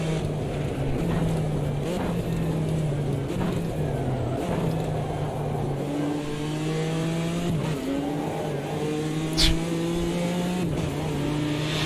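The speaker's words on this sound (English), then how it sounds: "It's that snap as it changes gear and instantly gets sideways" Race cars from the Automobilista 2 racing game, including GTE Corvettes, roar continuously with engine pitch stepping through gear changes, a sharp snap near the end as a shift hits and the car steps sideways.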